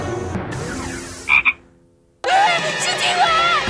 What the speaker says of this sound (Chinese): 是青蛙。